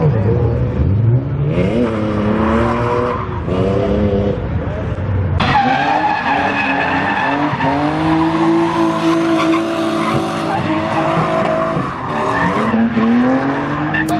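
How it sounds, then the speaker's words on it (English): A BMW E36 drift car's tires squeal and skid as it spins out, long screeching tones sliding in pitch over engine noise, close and loud. "Little spin out, little spinny boy, Quinn."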